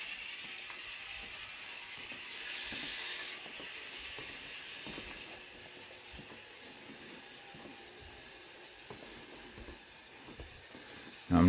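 Locomotive hauling a 100-car hopper train as the throttle is notched up smoothly: a steady low rumble with rail clatter and a hiss running throughout, fairly distant and even, with a sharp bump right at the end.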